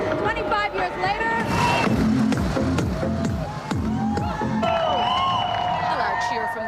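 Loud, dense crowd cheering and whooping at the 2005 Toronto Pride Parade, with many voices shouting together in a sustained roar and a few rising whistle-like calls, all close and continuous.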